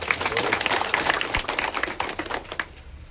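An audience claps to welcome Suraj R Naik at a forest dwellers' meeting, a dense burst of many hands applauding close by that thins and fades out within about three seconds.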